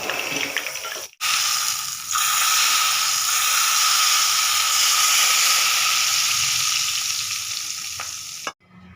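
Loud, sharp sizzling erupts as hot cumin tempering is poured over bottle gourd and red lentil dal, a steady hissing crackle that cuts off abruptly near the end after brief pauses.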